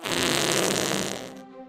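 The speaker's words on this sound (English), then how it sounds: "this shall now be coined the Fart Horn" A Fart Horn tool is blown in the pirate video game Sea of Thieves, giving a loud, buzzy, rasping blast that holds steady for over a second and then cuts off abruptly.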